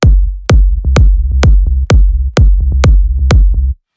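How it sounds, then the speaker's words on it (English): Punchy electronic kick drum locked together with a deep bass line in a dance remix, eight heavy thumps at a steady half-second pulse with short bass notes between them, loud and upfront, then an abrupt stop. "Kick and the bass together sound like this."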